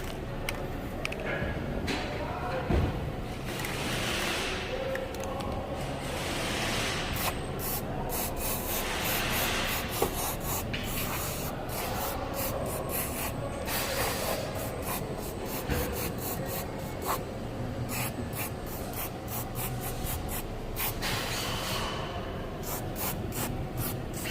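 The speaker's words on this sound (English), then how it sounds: "Go ahead and spray it down real quick with some white lithium grease" A steady, hissing aerosol spray of white lithium grease on a Ford F-150 tailgate runs continuously with rough, scratchy bursts layered over it, close up and fairly loud throughout.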